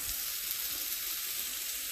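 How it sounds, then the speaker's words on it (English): Steady, loud sizzling of spices being stirred in a hot frying pan while cooking palak paneer, an even hiss continuing throughout without pause. "you want to stir that up real good with the spices"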